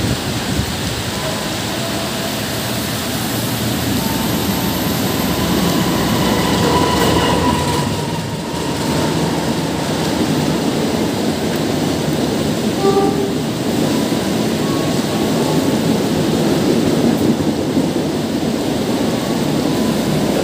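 Commuter train pulling out of Bekasi Timur station in heavy wind-driven rain, a steady rumbling roll with faint wheel clatter and brief horn-like tones, continuous and fairly close over the downpour.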